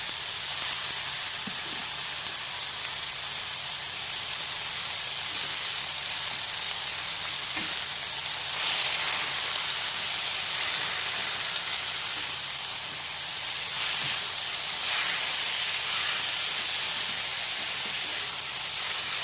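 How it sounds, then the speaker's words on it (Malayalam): Squid sautés in a hot pan, giving a loud, continuous hissing sizzle that holds steady throughout, with faint stirring movements underneath and no speech. "ഇനി അതിലേക്ക് നമുക്ക് കണവ വഴറ്റാൻ ഇട്ട് കൊടുക്കാം"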